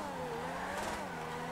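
A V12 car engine in GTA revs steadily with a smooth, high-pitched multi-cylinder whine, holding a sustained drone throughout.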